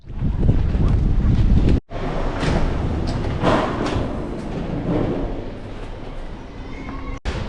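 Strong wind at the beach in Sidi Fredj, Algeria buffets the microphone in a continuous roaring rush, with brief gusty drops and no clear speech.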